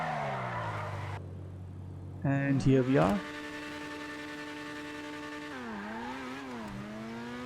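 Grotti Furia supercar from GTA, stock with no performance upgrades, heading out toward an airport: a steady engine drone with a brief louder rev burst and tire noise early on, shifting pitch as it drives, with a voice speaking briefly over it.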